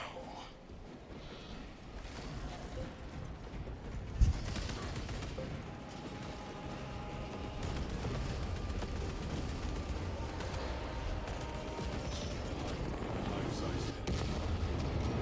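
Dense, continuous rumbling battle noise of explosives and gunfire in the Warhammer 40K Space Marine 2 video game, with one sharp blast standing out partway through.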